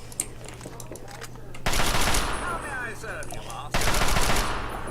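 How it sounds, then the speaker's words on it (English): Automatic assault rifle fire in Fallout 3, loud dense bursts that start abruptly, with one long burst running to past the midpoint and a second burst near the end, over a low game hum and faint background sound. "Assault rifle."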